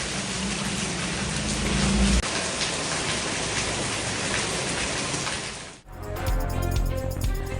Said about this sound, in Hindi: लाहौर, फैसलाबाद और शेखुपुरा समेत पंजाब के बेशतर शहरों में वक्फे से बारिश का सिलसिला जारी।